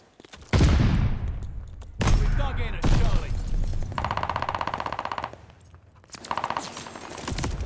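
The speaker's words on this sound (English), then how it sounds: "Now I get in a gunfight and I just stand there shooting." Rapid automatic gunfire in Call of Duty: Vanguard on the Gondola map, with loud bursts of rattling machine-gun shots, short pauses, a sharp boom and trailing echoes, all close and dominating throughout.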